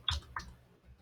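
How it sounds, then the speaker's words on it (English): A couple of quiet keystrokes on a computer keyboard in a classroom, two soft clicks close together, then near silence. "I'm just going to do some typing here."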